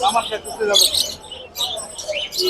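Caged birds at the Mirpur bird market chirp and tweet loudly and close together in quick, overlapping bursts, a busy chorus of high calls.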